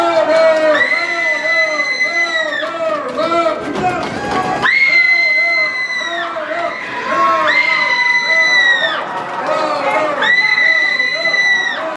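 Several voices scream and shriek loudly in repeated bursts, high-pitched and piercing, with crowd-like shouting mixed in, at a protest at the University of North Texas.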